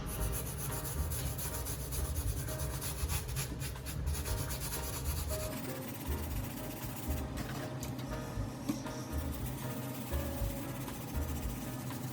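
A brush scrubs the midsole of a shoe during wet cleaning, giving continuous close rough rubbing strokes with a steady scratchy texture for the whole stretch and no talk.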